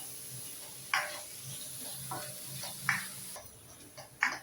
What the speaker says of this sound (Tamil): இதையும் சேர்த்து இதில் வதக்கிக்கலாம்